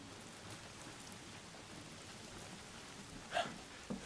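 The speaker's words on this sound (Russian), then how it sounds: "Здесь что-то дождь идет по шуму" Steady rain hiss in the video game Days Gone throughout, soft and even, with a couple of brief louder bursts near the end.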